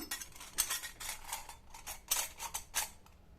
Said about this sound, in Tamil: இதை இதில் சேர்த்துட்டு இந்த முறுக்கு உலக்கில் வந்து இதை ஃபிக்ஸ் பண்ணிடலாம்